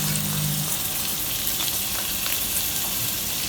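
Onions sizzle and fry in hot oil in a cooking pot for a chicken stew, a dense, steady crackling hiss that carries on without talk.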